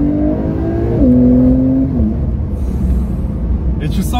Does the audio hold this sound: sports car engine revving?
yes